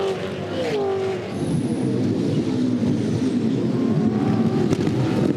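V8 Supercars race at Queensland Raceway during the 2009 Queensland 300, a steady roar of race engines passing at middle distance with a revving engine note rising and falling above a constant crowd and track din.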